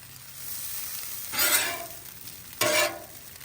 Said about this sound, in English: I flipped the hash browns a few times, just getting them soaked in that butter